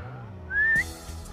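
A single short rising whistle from a person at Delhi Zoo cuts in over low outdoor rumble, clear and close, lasting under half a second.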